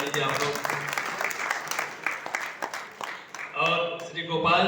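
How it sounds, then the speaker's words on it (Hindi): Audience applause at an all-India poetry gathering and mushaira, a dense crackle of clapping that swells and dips, with a voice speaking over it toward the end. "मैं चाहता हूँ कि मैम के लिए भी बहुत जोरदार तालियां बजा दीजिए आप लोग"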